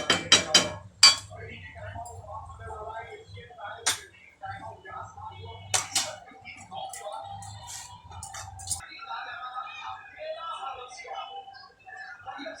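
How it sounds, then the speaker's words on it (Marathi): A spoon stirs a salted potato and pea curry in a pan, with several sharp clinks and scrapes against the metal early on, then quieter stirring beneath steady talking. "मीठ टाकून चांगलं हलवून घेऊया."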